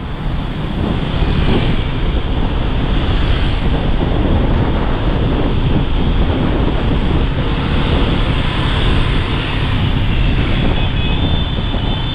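Strong wind roars steadily on a street in Quy Nhon on a cold day, a loud constant rushing buffet across the microphone with no voices.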